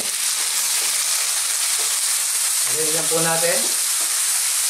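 Tomatoes fry with garlic and onion in a pan for Filipino corned beef and potatoes, giving a loud, steady, dense sizzle throughout while someone speaks briefly over it.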